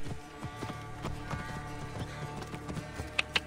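Horse hooves clip-clop in a quick irregular rhythm over a low musical bed in the video game Assassin's Creed Origins, with a couple of sharp bright clicks near the end.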